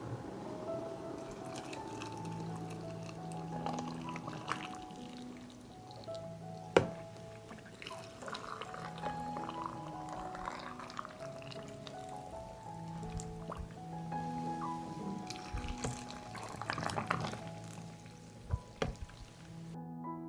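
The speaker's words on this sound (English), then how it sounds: "I pour boiling water into the jars to cover the tomatoes." Boiling water trickles and drips into glass jars packed with tomatoes in a home kitchen, with soft splashes and drips scattered across a quiet background of gentle tones.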